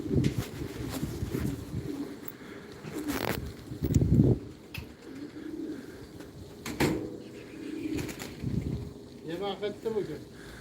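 Soft, low pigeon coos from a pair of grey-smoky male pigeons repeat intermittently beneath a person talking, with some background rumble.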